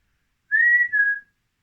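Two short whistled notes from a person in a castle dungeon, a rising tone followed by a lower one. Both are clear and alone in near silence.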